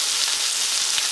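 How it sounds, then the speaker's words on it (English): Cinnamon-spiced caramelization sauce sizzling hard in a pan, a loud, continuous close hiss with no talk over it. "A small dash of cinnamon in my caramelization sauce"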